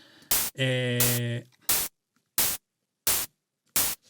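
Short bursts of white noise synthesized in Ableton Live's Operator, five sharp blasts separated by silence, the second overlapped by a tonal pitched tone, like snare tails being shaped.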